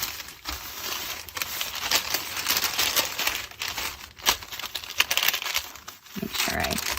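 Parchment paper crinkling and rustling over a shirt on a heat press, preparing flocked HTV vinyl: a continuous close, crackly handling sound with soft taps and pauses.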